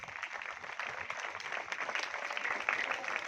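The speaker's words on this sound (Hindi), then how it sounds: "तालियां बजती रही।" Applause at an Indian Independence Day celebration, a steady crowd clapping with dense, continuous patter throughout, moderately loud and unbroken, with no one speaking over it.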